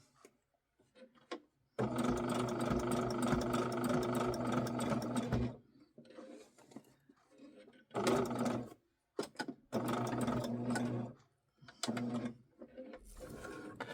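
A sewing machine stitches appliqué in close, loud bursts of rapid mechanical whirring, one long run followed by several shorter starts and stops with quiet gaps between.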